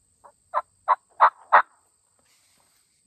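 A wild turkey hen calls outdoors in a clear, close series of five rising yelps, then falls silent.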